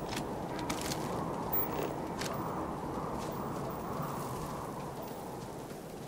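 Steady acid rain pours down in the video game Starfield, a dense, constant hiss of droplets striking surfaces close by, holding even loudness throughout with a few faint brief crackles and no voices.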